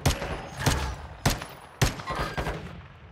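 Long-range gunfire in the Warzone 2 video game: three sharp, loud shots spaced about a second apart, each with a ringing tail, over constant background game noise.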